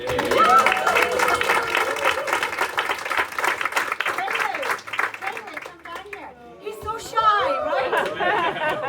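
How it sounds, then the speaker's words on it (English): An audience at a community Christmas dinner in a café breaks into clapping that mixes with chatter and voices, then eases off and picks up again amid talk and cheers. "A big round of applause to Sarah."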